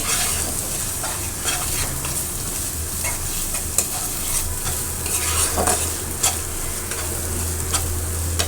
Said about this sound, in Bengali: এখন এটা আবার সুন্দর করে ভুনে নেবো